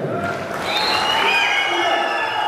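An audience at a movie trailer launch event claps in a burst of applause with some crowd noise, close and fairly loud for a couple of seconds, while someone speaks over it.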